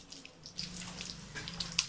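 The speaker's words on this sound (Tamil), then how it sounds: "அதில் இருக்க தண்ணியெல்லாம் வடித்து வெறும் வாழைக்காய் மட்டும் எடுத்து வச்சுக்கோங்க" Water from boiled plantain pieces drains away in a quick, splashy trickle with scattered drips, close by and brief.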